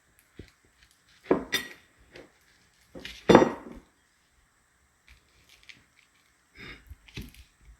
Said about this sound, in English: So we're just gonna take our banana and cut it in half like this.